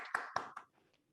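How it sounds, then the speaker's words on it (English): Three quiet but distinct hand claps come close together from a single person at an online academic workshop, then fade into near silence. "Let's do a round of applause for Simina."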